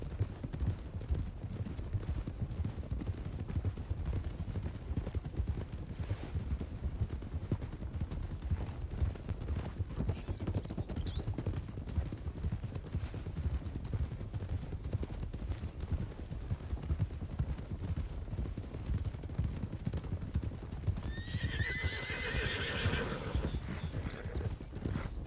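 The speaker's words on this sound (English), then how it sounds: "I think it was just one of the horses snorting" Horses in a Red Dead roleplay game clip-clop steadily on hooves throughout, with occasional snorts and a whinny late on, plus faint distant gunfire, no talk.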